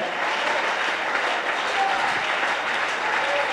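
Church congregation applauding, a dense, steady wash of clapping from many hands filling the space, fairly close and continuous for a few seconds.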